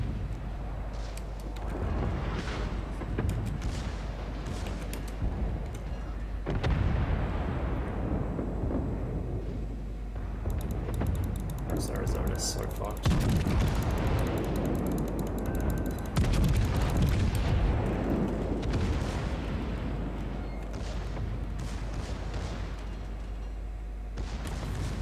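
Battleship guns fire in a naval video game, heavy booming blasts and rumbling explosions recurring over a constant low drone, loud and dense throughout.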